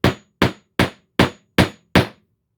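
Six sharp hammer blows drive nails while a woodworker assembles a hand tool tote, evenly spaced about every 0.4 seconds, close and loud, each ringing off quickly, with no talking.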